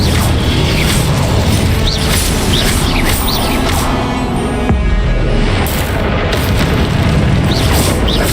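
Loud bursts and booms of the Incendio fire spell in the Hogwarts Legacy video game, several rumbling blasts layered over dense, constant combat noise with no talking.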